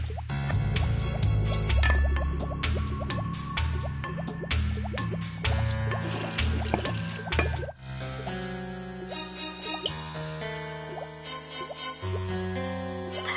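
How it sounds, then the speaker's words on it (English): Thick liquid dripping, plopping and bubbling as worm paste is stirred into a spooky soup in the Wii game I Spy: Spooky Mansion, with wet plops spread over steady game music throughout. "Grind in the spider cupcake. Stir in the worm paste."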